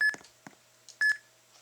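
A machine emits short electronic beeps in a pulsing pattern beside a fusion reactor setup, two sharper tones standing out amid softer clicks in quiet surroundings.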